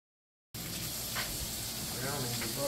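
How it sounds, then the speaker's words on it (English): Butter browning in a pan, sizzling steadily with a soft continuous hiss and occasional crackles after a brief silence at the start, close up, with faint background voices. "Browning the butter"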